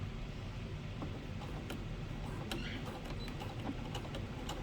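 A sewing machine back stitching new leg elastic into a Blueberry Simplex all-in-one cloth diaper, a quiet steady mechanical whir with faint rapid ticking, heard alone.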